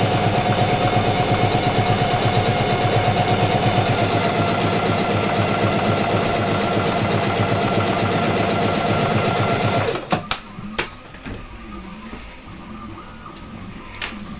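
A sewing machine stitching a seam in tent fabric runs as a fast, steady mechanical whir with rapid needle clatter for about ten seconds, then stops, leaving a few handling clicks and rustles.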